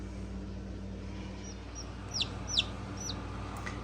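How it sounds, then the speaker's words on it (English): A newly hatched Polish chicken chick in an incubator gives a few short, high peeping chirps over a steady machine hum, close but soft, with no talk. "We got a little birdie. This is the first one that's hatched."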